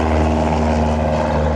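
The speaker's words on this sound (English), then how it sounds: "Plane." A propeller aircraft drones loudly overhead at a retro car weekender, a steady, continuous engine hum with a strong low pulsing tone and no speech.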